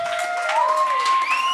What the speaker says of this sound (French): On applaudit Julien Bernatchez